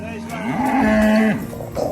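A cow at a cattle farm gives one long, loud moo with a rising then steady drawn-out tone, heard alone against faint farmyard background.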